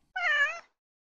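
A single short, clear cat meow, close and alone against silence.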